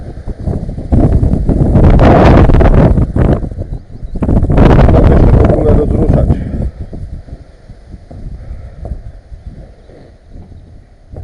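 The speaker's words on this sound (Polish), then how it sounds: "I do tego jeszcze wieje jak cholera." Strong wind on a cold 3-degree day at a house building site where a roof is being worked on buffets the microphone in heavy roaring gusts, easing into a lower rumble.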